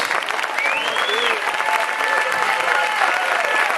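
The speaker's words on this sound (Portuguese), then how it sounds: "Aplauda o Rei dos Reis." A church congregation applauds, steady dense clapping from many hands filling the room continuously, with a voice and faint tones rising over the sustained applause.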